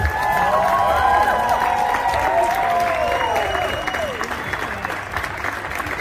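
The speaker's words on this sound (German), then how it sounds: "Riesen Applaus zuallererst für die Cheerleader vom 1. FC Köln." A stadium crowd applauds the 1. FC Köln cheerleaders before a women's cup final, with loud sustained clapping mixed with cheers and whistles, and a few voices calling out over the din.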